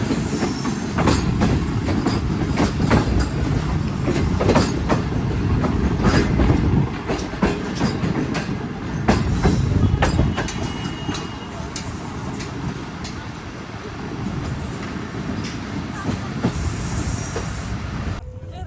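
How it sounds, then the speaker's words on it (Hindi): The Awam Express approaches Mehrabpur, heard from on board as a loud, continuous rumble with rhythmic clickety-clack of the wheels and occasional squeals throughout. "एक बज के 13 मिनट पर ट्रेन हमारी अप्रोच बना रही है मेहराबपुर शहर में"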